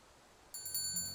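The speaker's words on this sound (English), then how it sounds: "A bell rings when I walk through a wooden door" A small bell jingles as the wooden door of a modest trading post opens, a brief bright ring rising after a moment of quiet room tone, with a soft low thud beneath it.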